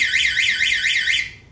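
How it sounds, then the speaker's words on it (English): A defibrillator wall cabinet alarm triggered by its door pressure plate, a loud, close electronic warbling siren that sweeps up and down in a rapid repeating cycle, then cuts off and fades. "it's got a pressure plate in it that when you open it, it sounds quite loud and it flashes"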